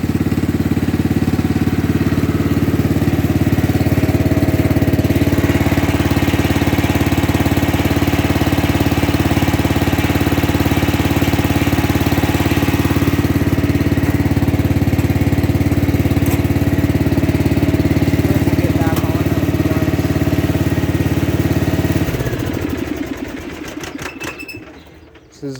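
Riding lawn mower engine with a 4-lug rear end runs steadily through its muffler, a loud, close, even drone that holds for over twenty seconds before winding down and cutting off near the end.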